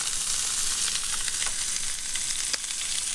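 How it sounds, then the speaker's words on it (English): Steak sizzling and frying in a pan on an old stove inside a van, a steady close crackling hiss with faint stirring scrapes. "Yep, cooking steaks in the van."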